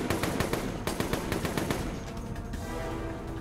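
Rapid automatic gunfire rattles in the zombie shooter video game Resident Evil: Operation Raccoon City, a dense string of close, loud shots that thins out and trails off into noise near the end.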